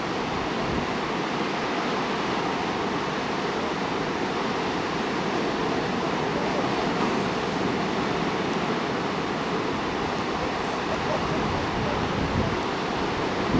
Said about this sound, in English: Some nice surfing waves coming in.